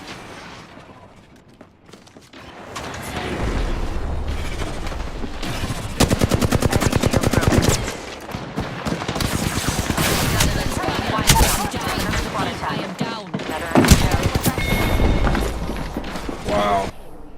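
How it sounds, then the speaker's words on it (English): Automatic gunfire in the battle royale shooter Apex Legends, loud rapid bursts repeating through most of the stretch amid other battle noise, with voice talk running over the shooting. "Opening fire."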